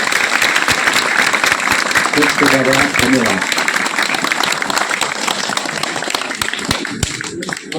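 A crowd at a Tulsi worship program at a school complex in Rajkot claps loudly and continuously. A voice speaks briefly over the applause, which thins out toward the end.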